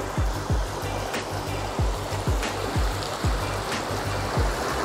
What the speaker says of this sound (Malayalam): അതിങ്ങനെ അങ്ങ് ഒഴുകി അങ്ങനെ പോവാണ്.